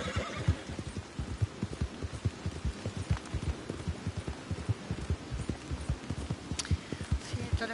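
Steady clip-clop of hooves with occasional snorts, a video game horse moving continuously at a trot, with a soft wash of rain-like noise underneath.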